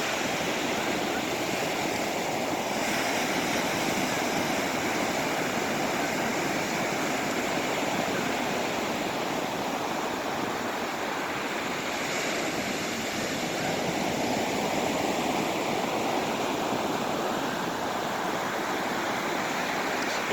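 Ocean surf on a salt water shore at low tide, a steady broad wash of breaking waves that continues without a break throughout, close and fairly loud, with no voices heard.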